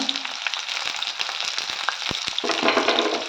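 Chopped vegetables, including cauliflower, sautéing with asafoetida in a hot pan, a close, busy sizzle with scattered crackles and light stirring knocks, swelling louder toward the end.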